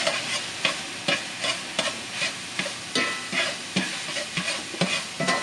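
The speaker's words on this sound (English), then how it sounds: "Half teaspoon of onion powder. Give that a stir." A spoon stirs an enchilada beef mixture seasoned with onion powder in a hot pan, scraping and sizzling in a steady rhythm of strokes about every half second, close and fairly loud with no talking.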